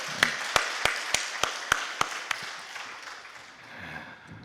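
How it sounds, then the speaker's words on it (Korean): A church congregation claps in steady, unison beats, about nine sharp claps in a row, which then loosen into softer, scattered applause that gradually fades. "하나님 앞에 영광의 박수 올려드립니다"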